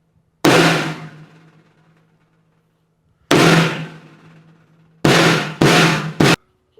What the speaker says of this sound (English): do your drums sound like this?